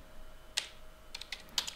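Typing on a computer keyboard while entering commands into Octave, a few soft, close key clicks in small quick bursts over a quiet background.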